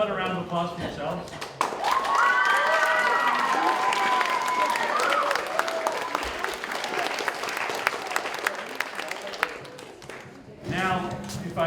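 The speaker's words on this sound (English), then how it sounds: "How about a round of applause for yourselves?" A school concert audience claps loudly and steadily for most of the stretch after a short spoken lead-in, with a few shouts mixed in, fading near the end before voices return.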